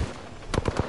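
Rapid burst of gunfire in a competitive shooter game, four or five quick sharp shots in under half a second, close and punchy.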